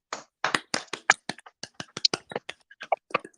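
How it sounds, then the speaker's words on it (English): Hand claps ring out in a quick, slightly uneven run of around twenty sharp, close strikes, crisp and isolated against silence. "come on, let's clap"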